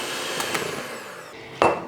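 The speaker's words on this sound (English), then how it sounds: "using a handheld mixer or a stand mixer, I mix that until it's nice and creamy" Handheld electric mixer beating sugar and vanilla to a cream: a steady, close motor whine with a rising pitch and a short scraping knock near the end.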